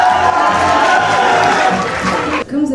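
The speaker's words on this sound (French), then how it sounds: "Allez tout le monde, on peut les applaudir bien fort." Audience at a regional high-school retail and commerce competition event in Nouvelle-Aquitaine bursts into loud, sustained applause mixed with crowd cheering that fills the hall, then cuts off abruptly near the end.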